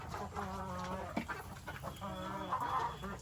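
A hen clucking close by, a few short throaty clucks and warbling calls in quick succession, fairly faint against a steady background hum.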